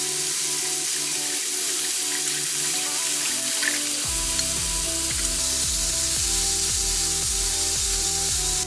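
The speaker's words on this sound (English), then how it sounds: "I'm gonna be adding some wine, and I'm gonna let that all reduce by 1/2" Wine sizzles and reduces in a hot pan while making Steak Oscar, a steady bubbling hiss that stays constant and close for several seconds, with a low background hum and no voices.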